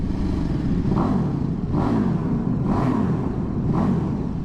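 A 2008 KTM RC8 with its LC8 engine pulls hard under acceleration, a loud continuous rumble that rises and falls in several surging waves as the revs climb and drop.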